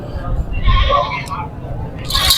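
A goat bleats repeatedly at a crowded livestock market, the calls rising over steady background chatter and crowd noise, with people talking nearby.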